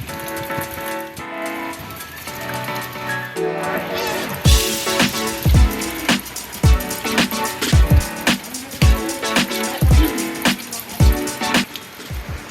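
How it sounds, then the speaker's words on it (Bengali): Heavy rain pours outside in a steady loud wash, broken by repeated close thumps and knocks, while a person talks over it. "বাইরে এত বৃষ্টি হচ্ছে"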